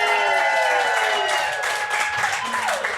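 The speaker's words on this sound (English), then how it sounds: "Don't stop applauding" A live podcast show audience applauds and cheers at the start of the first live episode, loud and sustained crowd noise with a voice rising over it.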